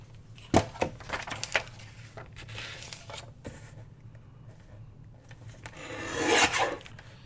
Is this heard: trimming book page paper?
yes